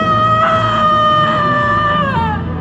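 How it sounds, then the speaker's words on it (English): A woman screams during a storm with a boat going over, a loud sustained wail that bends downward near the end, close and alone. "The woman's voice screamed."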